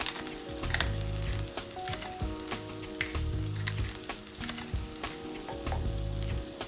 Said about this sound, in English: Give this rice a good mix and let it cook on high flame for a minute